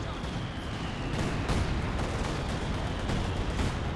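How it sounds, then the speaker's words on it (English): Mortar fire in the video game Company of Heroes 2, a constant barrage of booms, gunshots and explosions layered into a loud, dense battle din with occasional sharper hits. "A lot of mortars running on in."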